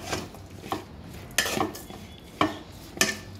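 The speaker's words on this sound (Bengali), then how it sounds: "তো আমি কাঠি দিয়ে মেখে নিচ্ছি" A wooden stick mixes a chopped onion and chilli mixture in a bowl, giving four or five separate scraping, clacking strokes against the dish at an uneven pace. The strokes are close and clear, with no talk.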